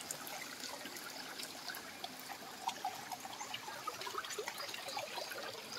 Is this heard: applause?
no